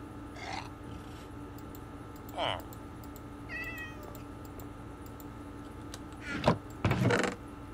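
A cat meows several times, short rising cries spaced a couple of seconds apart, moderately close, over a quiet room with some key jangling and light clatter.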